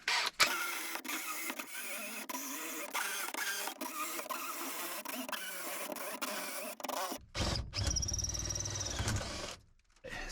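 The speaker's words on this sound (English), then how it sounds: "now I can switch over to my spot weld cutter" A spot weld cutter bores into the body of a 1988 Toyota van, giving a continuous close motor whine with rhythmic ticking that stops abruptly, then restarts in shorter bursts before cutting out.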